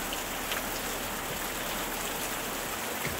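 Rain falling on a window glass, a steady dense patter and hiss that continues unbroken at an even moderate level, with no voices.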